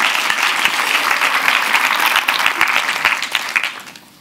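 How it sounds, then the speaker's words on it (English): Audience applause at a climate change talk, offered for a speaker's mother in the room. Close, lively clapping from a crowd holds steady for about three seconds, then thins and fades out. "round of applause for my mother"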